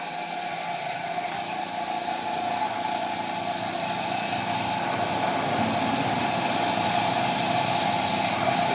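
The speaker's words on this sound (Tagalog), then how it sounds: "Medyo maingay ang aking air compressor." A noisy air compressor drones steadily nearby, a constant high-pitched mechanical whine with a buzzing hum that stays even throughout, no voices over it.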